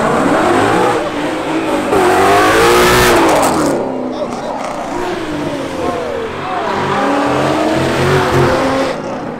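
A Ford Mustang accelerates hard away from a rainy Cars & Coffee meet, its engine revving loud and close with a brief rising surge and possible tire noise, while people talk and shout over it throughout.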